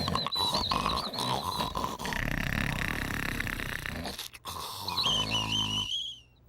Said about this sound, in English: there was snoring